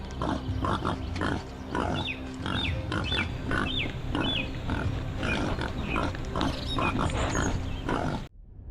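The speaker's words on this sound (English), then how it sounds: "The moment the hogs sense human presence, panic erupts inside the trap." Panicked wild hogs squeal and grunt almost nonstop inside a 20-foot net trap during a hog control operation, a dense, loud chorus of overlapping shrieks that runs without pause before cutting off abruptly.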